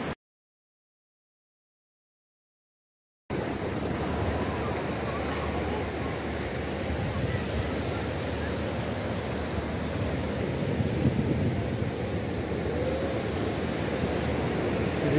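Ocean surf at Jeffreys Bay beach on a hot, crowded day, a steady broad wash of waves heard close and continuous after a few seconds of silence, mixed with wind noise.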